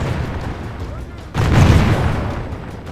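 A volley from gunners in Medieval II: Total War bursts out as a loud, dense crackle of overlapping shots that lingers briefly, with a voice talking over the battle noise.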